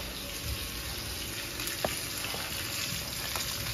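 Food fries in sesame oil in a home kitchen pan, giving a steady close crackling sizzle with a few brief clinks, continuous and without speech.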